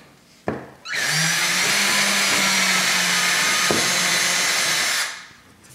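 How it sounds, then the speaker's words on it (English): A power drill whirs steadily for about four seconds after a short click, drilling a small hole for a finishing nail in a model railway helix, then spins down, loud and close. "The next thing I will do is drill a small hole right at that intersection."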